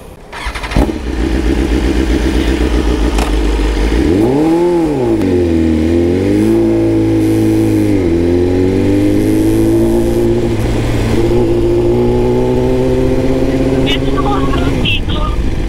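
A BMW big bike motorcycle engine idles, then revs up and down in a loud, close, sustained roar that rises and falls before settling, while people talk over it.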